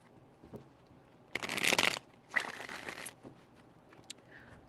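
Tarot cards being shuffled in quick close bursts, two dense riffling passes of about a second each with short pauses and soft handling between them.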